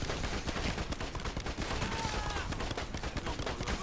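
Enemies firing at the player in the video game Narco Terror: loud, continuous rapid gunfire with dense overlapping shots throughout, no pauses.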